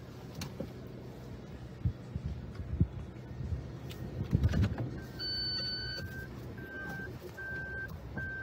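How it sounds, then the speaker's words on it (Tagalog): Parking sensor in a 2021 Toyota Rush 1.5 G beeping while parking, a steady series of evenly spaced electronic beeps that begins partway through, over faint car cabin noise and a few thumps. "papakita ko sa inyo yung kanyang parking sensor"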